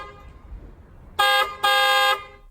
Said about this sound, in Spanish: Puedes presionar prácticamente en cualquier parte del centro del volante para usar el claxon